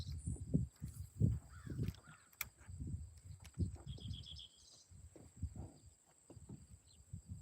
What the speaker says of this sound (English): The birds are all out here having a great time.